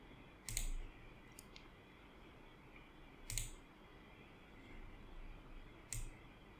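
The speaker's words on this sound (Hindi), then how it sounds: "हम लोग इसको ट्राई करते हैं राइट क्लिक करके" Three separate mouse clicks in a quiet room, spaced about three seconds apart and each sharp and brief, with no talking.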